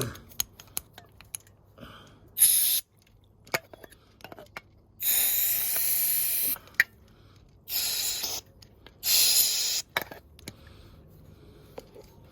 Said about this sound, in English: And we've got our trusty brake cleaner. So let's blow everything through.